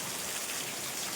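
Steady rain falls outside on a rainy day, a continuous dense hiss of drops on surfaces, moderately faint and even throughout with no voices.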